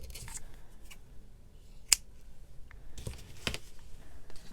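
Scissors cutting paper to trim a junk journal envelope, several sharp separate snips with soft paper rustling between them, close by and alone.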